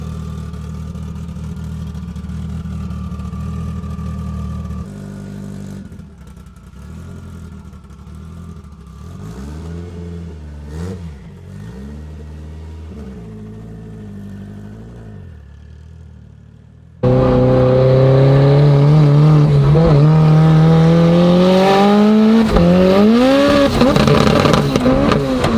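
A modified car with an SR20 2-litre engine idles and blips at a race track, then erupts into loud, sustained revving with rising and falling engine pitch up close.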